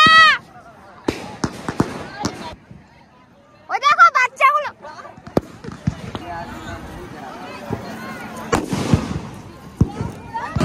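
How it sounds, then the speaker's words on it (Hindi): Firecrackers burst during Mahalaya celebrations in West Bengal, with sharp cracks spaced irregularly and a few rapid clusters. People talk and shout nearby between the bangs. "ये इंसान सब बम फोड़ चुका है।"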